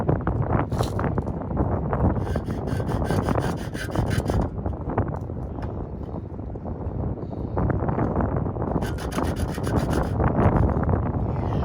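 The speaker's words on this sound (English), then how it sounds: "this is what I have to cut. This is my cutter." A cutter working through a tube in an outdoor workshop, with repeated rough rasping and grinding strokes over several seconds, fairly close and loud, with traffic noise in the background.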